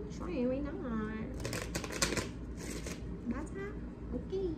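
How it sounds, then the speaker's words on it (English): A deck of tarot cards is shuffled in a continuous riffling, flapping rustle, close and steady for several seconds, while someone talks over it. "Shuffle again if you just fell out, okay?"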